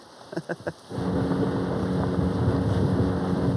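A few soft taps, then strong wind roars across the microphone in a constant low rumble, the kind heard out on open water.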